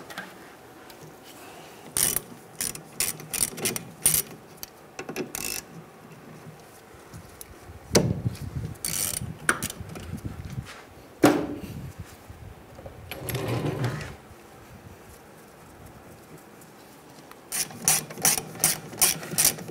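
A ratchet clicks in short bursts while loosening the two 14mm bolts holding a brake caliper, its rapid pawl ticks alternating with pauses and brief handling noises, close and fairly quiet.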